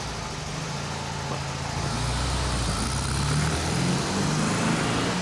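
A vintage California car with a sunroof drives away. The engine gives a steady, loud motor drone that swells slightly, with no voices heard.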